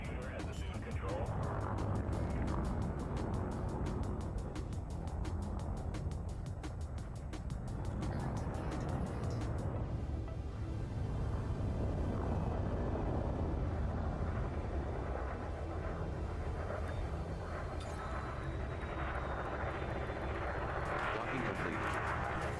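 A spaceship in a video game docks under automatic docking computer control, a loud continuous engine rumble and whine that shifts in pitch as the ship moves, with a synthetic voice speaking over it.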